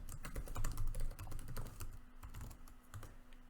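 Quick, uneven clicking of keys on a computer keyboard as an email address is entered into an account registration form, close and fairly quiet, with short bursts and brief pauses.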